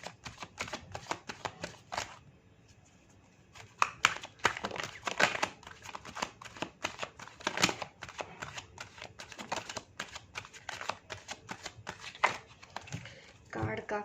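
Tarot cards shuffled by hand in quick, crisp riffling bursts close by, with a brief pause and then continuous shuffling; someone speaks over parts of it.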